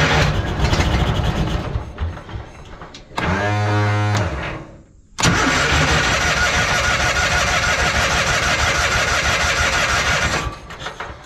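An abandoned Argo amphibious vehicle's engine cranks in bursts, goes briefly quiet, then catches and runs steadily and loudly close by for several seconds before cutting off at the end.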